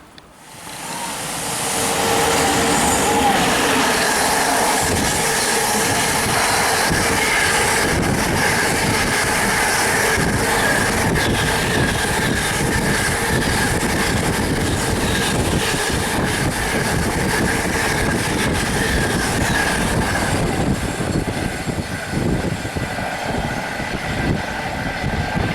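A train arriving at a station in Birmingham in the evening: a loud, sustained rumble and roar that swells within two seconds and holds steady, with faint squeals and rattles and no voices.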